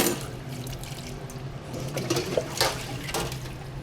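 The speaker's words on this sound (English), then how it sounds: "Oh, and a bit of water here." Water running and splashing into a pan of chow mein noodles, a steady trickling pour with a few louder splashes, close and clear with no voices.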